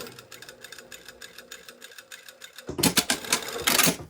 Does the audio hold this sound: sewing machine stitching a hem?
yes